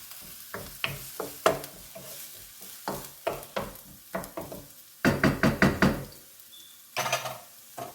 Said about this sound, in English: you want to get those onions brown in there